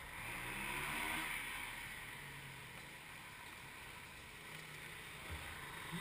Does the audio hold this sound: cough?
no